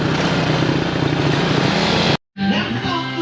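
A pitbike engine with no exhaust fitted roars loudly and raw in a workshop, cuts out abruptly for a moment, then bursts back to life.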